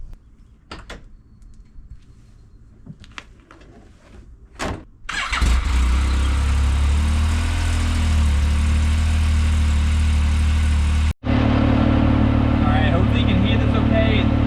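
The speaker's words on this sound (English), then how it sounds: "The whole point of this is so you can hear the engine and the gearbox." Quiet rustling and a few knocks, then a Yamaha YXZ1000 side-by-side UTV engine turns over and settles into a loud, steady idle with a brief cut near the end.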